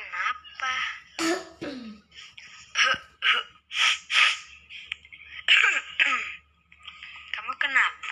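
Coughing and throat clearing from someone with a cold, several short harsh bursts close up, mixed with speaking voices.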